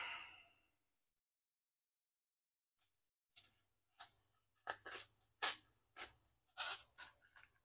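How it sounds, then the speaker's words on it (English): A truck bed liner mat for a Ford Maverick is cut by hand, producing a faint run of short, quiet snipping and slicing strokes after a long near-silent pause, each stroke crisp and close with a slightly irregular rhythm. "So we're going to cut it."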